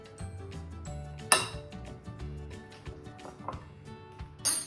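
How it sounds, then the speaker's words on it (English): Metal spoons scrape and clink against a bowl and baking tray while scooping rock cake mixture, with a few sharp bright knocks among softer scraping, close and moderately quiet with no talking. "Spoonfuls of the mixture onto your tray."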